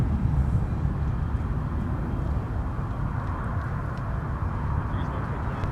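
A Southwest Airlines jet arriving from Baltimore rumbles in a broad, steady roar from a distance at an airport, holding level throughout with faint voices in the background.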